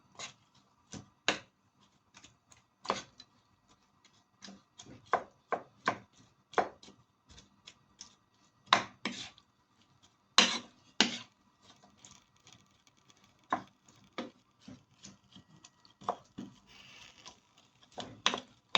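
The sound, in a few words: stirring shrimp tray ingredients in a pan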